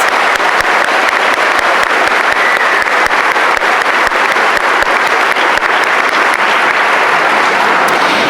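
A graduation audience applauds scholarship recipients at a high school commencement, a dense, steady wash of many hands clapping that fills the hall and holds at an even, loud level throughout.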